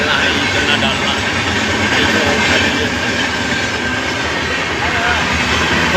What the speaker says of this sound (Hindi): और इधर ट्रेन भी गुजर रहा है